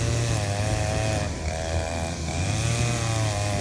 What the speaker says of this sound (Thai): เครื่องตัดหญ้าใบเอ็นนะครับ